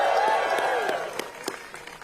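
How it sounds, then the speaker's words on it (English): Crowd applause at a Brooklyn public-transport announcement, fairly loud at first and thinning into a few scattered claps that fade out. "Let's give them a round of applause."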